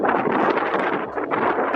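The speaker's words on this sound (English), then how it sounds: "It was super windy." Steady, roaring wind buffets the microphone without a break, a broad rushing noise with no voices.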